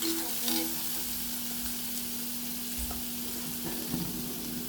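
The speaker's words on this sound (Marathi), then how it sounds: "याला आपण बघू शकता छान परतून घेतलेले आहे आपण" Pumpkin pieces sautéing in a pan to make a dry vegetable dish, giving a steady, dense sizzle that holds evenly throughout, close and fairly loud, with a few faint stirring scrapes and no voices.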